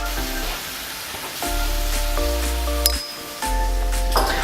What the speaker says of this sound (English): Now it's time to add our concentrated tomato paste.